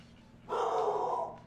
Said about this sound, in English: dog's barking, so that's all I can hear